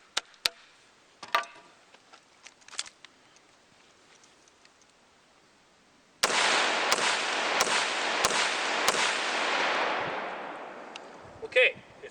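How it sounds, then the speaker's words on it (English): A rifle in a mud reliability test fires five quick shots about half a second apart after a quieter stretch of small knocks, with a loud wash of noise behind the reports that fades away. "we're going to fire 5 rounds and see how she functions"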